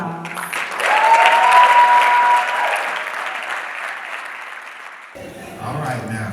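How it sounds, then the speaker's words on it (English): A crowd at a KCA Chicago event applauds loudly for performer Avery R. Young, with a sharp whistle rising over the clapping before the ovation fades and a voice begins speaking near the end. "Young a round of applause."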